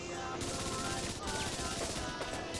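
Rapid machine gun fire in the video game Freaky Flyers, a dense continuous burst, loud and close, under faint talking.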